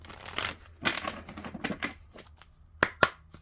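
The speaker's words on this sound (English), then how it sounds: "Let's shuffle." Tarot cards being shuffled by hand: soft riffling bursts and papery rustles in quick clusters, followed by two sharp taps as the deck settles, close and quiet with no talk.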